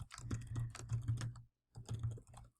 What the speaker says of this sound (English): So all I did was type on it